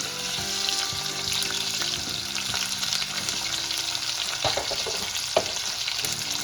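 Lengthwise-slit green chillies, finely chopped tomato and sliced onions frying in a pan for lima bean rice, a constant close sizzle with scattered scraping and clinking from stirring, moderately loud and without speech.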